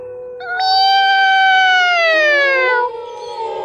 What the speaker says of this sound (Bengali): হঠাৎ একটা বিড়াল ডাকলো যেন কোথায় বিড়ালটা আবার